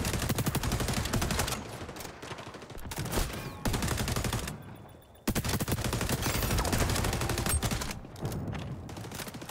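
Sustained automatic gunfire in the XDefiant shooter as rounds go through a mag shield, dense rapid bursts with a few brief pauses, loud and close throughout.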